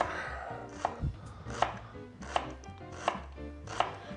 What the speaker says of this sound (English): This is my preferred way of cutting an onion.